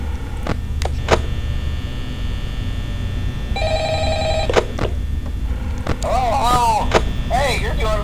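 Telephone ringing in the Five Nights at Freddy's video game, a single electronic ring burst midway amid thumps, a low hum and warbling game sounds.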